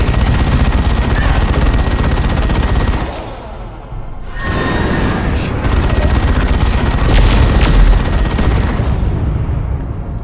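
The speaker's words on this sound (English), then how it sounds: "Launching grenade." Grenade launch and explosions in the real-time strategy game Dawn of War 2, set amid a dense, continuous barrage of gunfire and booming blasts, with a brief lull before the battle noise resumes, loud and close.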